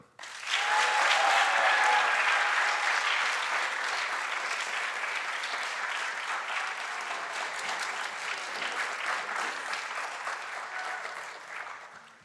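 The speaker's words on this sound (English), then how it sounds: "Please applaud our class of 2021 Excellence in Orchestra Award winner, Marlo Underwood." Audience applause for a high school orchestra award winner at a senior academic awards ceremony, rising quickly to a full, dense wash of clapping and then slowly fading out.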